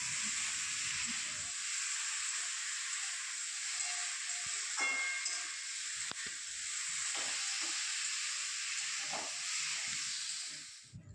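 Pots of tamarind dal and a vegetable curry of drumstick, potato and pointed gourd simmering on a home stove, giving a steady, faint sizzling hiss with occasional small clinks and bubbling pops, heard alone without talk.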